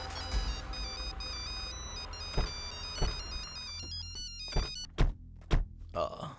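A phone ringtone chimes in a repeating melodic pattern, joined by several dull thunks and bumps toward the end, with talk around it.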